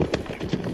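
Horses' hooves clop briefly on the ground during a drag hunt in Pau, in the Pyrénées-Atlantiques, heard as a short burst of muffled hoofbeats over noisy outdoor ambience.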